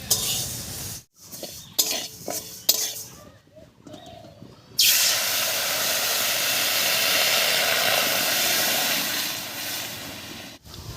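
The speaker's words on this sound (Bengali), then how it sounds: "ডালটা বেশ লাল লাল করে ভেজে নিয়েছি এবারে জল দেব" Water poured onto deeply fried mashkalai lentils in a hot pan for a village-style dal, a few clinks and scrapes first, then a sudden loud, sustained hiss and roar of steam that continues steadily to the end.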